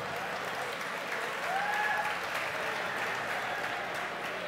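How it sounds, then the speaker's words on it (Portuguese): Sustained applause from an audience at an award ceremony for the 11th Festival Nativista, a steady dense wash of clapping with a few faint whistles rising over it. "Salva de palmas."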